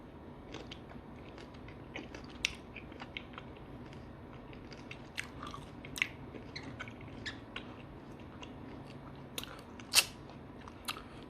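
Someone eating mango with sweet fish sauce at close range, giving soft crunchy bites and moist chewing in irregular bursts, with one louder bite near the end and no talking.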